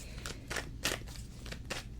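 A full-size deck of tarot cards being shuffled, heard as a quick run of crisp riffling bursts close by, about five rapid card flutters over two seconds.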